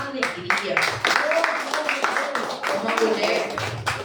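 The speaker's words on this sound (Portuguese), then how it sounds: "Eu quero que você aplauda com muita alegria." Church congregation clapping joyfully, rapid rhythmic claps close and loud, mixed with voices throughout.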